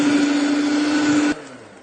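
An electric mixer beats butter and caster sugar together for a marble cake, a steady loud whirring drone with a constant motor hum that cuts off abruptly near the end, leaving a quieter low tail.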